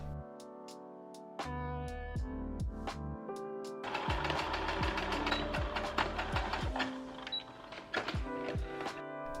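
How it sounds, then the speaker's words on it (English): A sewing machine stitches a seam on a wedding guest dress, its needle clattering in a quick, steady rhythm in short runs that start and stop, close by and clear. "And then we're going to stitch that side as well."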